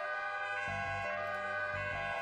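Fire engine siren in the emergency-response game Emergency 4 on an Amsterdam Amstelland map, a steady wailing tone with layered engine hum beneath, continuous and fairly close throughout.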